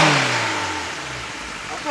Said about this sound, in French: je donne gaz à fond